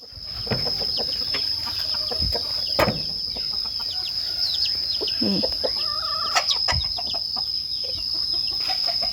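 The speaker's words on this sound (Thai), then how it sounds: "ไก่" Chickens clucking and calling around a rural Lao garden, short bursts scattered over steady background insect drone, with occasional louder calls standing out nearby.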